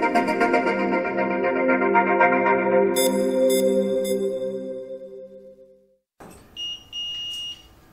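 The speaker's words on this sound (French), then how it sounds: "Dès qu'un problème survient, la pompe déclenche une sonnerie" A syringe infusion pump sounds its alarm, a rising cluster of harmonic electronic tones that fades out and then returns as brief high beeping tones after a short gap.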